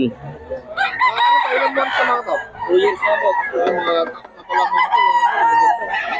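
Several roosters crow one after another close by, long strained calls overlapping with clucking, forming a busy, loud chorus.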